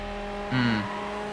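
A race car in Need For Speed Hot Pursuit 2 roars briefly through a tunnel, a short swelling engine surge with echoing reverberation over a steady low hum, fairly close and moderately loud, with no talk.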